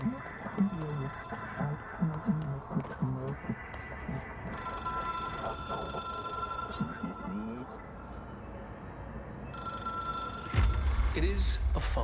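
An old telephone rings in the Control video game, with repeated bursts of bright metallic ringing over several seconds, partly under someone talking and game ambience.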